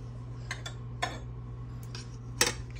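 Spoon or spatula stirring feta cheese and grits together in a bowl, with a few faint, scattered clinks and scrapes against the dish over a quiet background.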